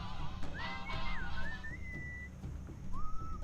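Melodic whistling in the Sam & Max Beyond Time and Space video game, a rising and falling tune that pauses briefly and then resumes, clear over a low steady background hum.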